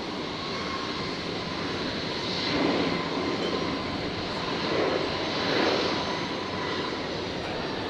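Qantas jet rolling for takeoff on runway 01 right at Brisbane Airport, bound for Canberra: a continuous distant engine rumble and hiss that swells twice as the thrust builds, with no voices.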